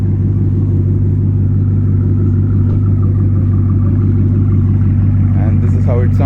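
A car engine runs at an indoor car show, a loud, steady low rumble close by that holds evenly throughout, with faint voices in the background.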